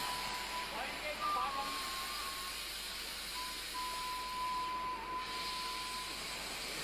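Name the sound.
steam locomotives hissing in locomotive shed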